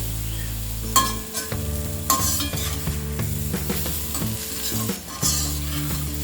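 Raw banana pieces fry in a pan with a lively sizzle broken by repeated scraping and clinking strokes of a spatula as they are stirred, close up and with no voices.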